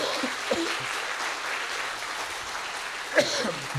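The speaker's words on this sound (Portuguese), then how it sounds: "vamos aplaudir Jesus Cristo" A church congregation claps steadily in a hushed indoor space, a dense patter of applause with a few louder sharp sounds, like coughs, standing out.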